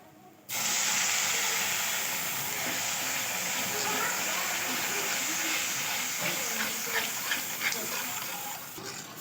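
Cold milk hits hot ghee and raisins in a pan for sheera prasad, bursting into a loud, steady sizzling hiss that starts abruptly and holds to the end without talk.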